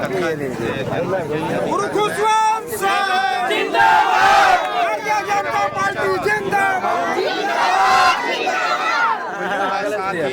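A large crowd shouts and cheers loudly and continuously at a political rally in Arang, with dense overlapping voices and swelling bursts of yelling throughout.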